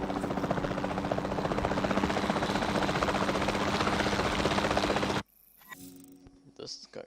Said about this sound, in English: the sensible thing is to take a capture team helicopter